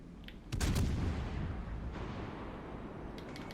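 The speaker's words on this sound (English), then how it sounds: "So I'm just going to swing out and fire both turrets." German cruiser Graf Spee in World of Warships Legends firing both main turrets: one heavy booming salvo hits suddenly, then a long rumbling roar trails off, loud and close.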